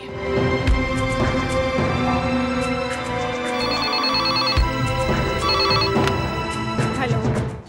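A mobile phone ringtone plays a bright, repeating electronic melody continuously from close by, with no talking over it.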